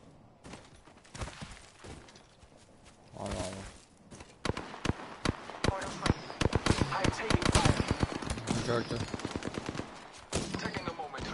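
Rapid video-game gunfire rattles in dense bursts and volleys, growing louder and near-continuous midway, with a voice talking faintly underneath.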